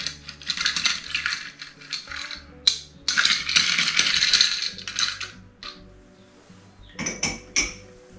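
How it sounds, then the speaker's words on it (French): Ice clinking and rattling into a glass as a Cognac cocktail is stirred, bright clattering bursts and jingles in irregular clusters, close and crisp with short pauses between. "On rajoute la glace. Et on vient terminer le mélange."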